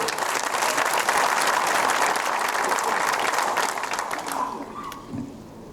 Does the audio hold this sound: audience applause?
yes